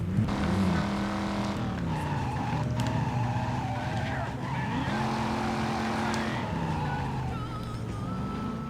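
A car in Driver: Parallel Lines skids around a turn, its tires squealing in a steady, wavering screech over a constant engine drone, with faint speech in the mix.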